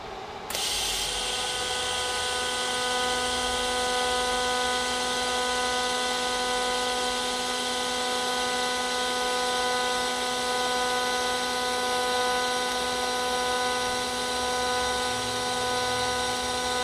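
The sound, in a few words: welding with an AHP 203xi welder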